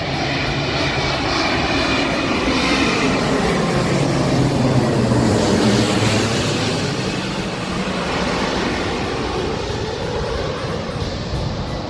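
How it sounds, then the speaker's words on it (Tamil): A passenger airplane approaching to land at Singapore's airport roars loudly and steadily overhead, its jet engine noise swelling and sweeping past in a continuous rumbling wash with no talking. "இப்போ இந்த ஃப்ளைட்டு மூவ் ஆகி வந்துக்கிட்டே இருக்குது."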